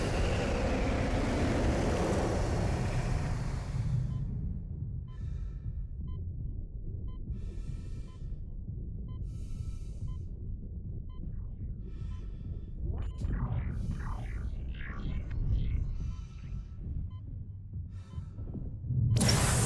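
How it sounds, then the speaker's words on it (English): Muffled vacuum ambience in the Dead Space video game: a dull, low, rumbling drone after a brief louder opening, with faint thuds and muted higher scrapes drifting in near the end, no talk. "I do wonder how they did the effect for the vacuum in this game"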